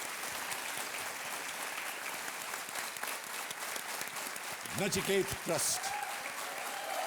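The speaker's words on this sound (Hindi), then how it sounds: "तालियों के साथ इनका अभिनंदन किया जाए" A studio audience on the Kaun Banega Crorepati set gives sustained applause, and a voice speaks briefly over it near the end.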